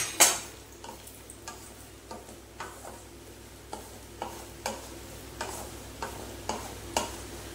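Chopped dry fruits fried in ghee for chandrakala, with a soft sizzle underneath and a steady run of light scraping stirs, roughly one every half second, close and fairly quiet.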